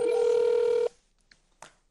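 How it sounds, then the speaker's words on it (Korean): A telephone ringback tone sounds while a call is placed on a Korean TV chart show: one steady, close, loud tone that cuts off just before the one-second mark, followed by near silence with a couple of faint rustles. "신동 씨 전화 한번 해볼까요?"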